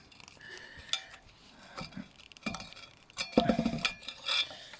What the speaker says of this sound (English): get your screwdriver, pop this seal out